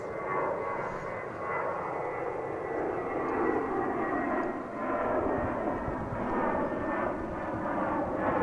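An American Airlines jet departing at DFW International Airport roars steadily from a distance, a broad, rumbling engine drone that swells slightly and holds for several seconds, faint and without talk.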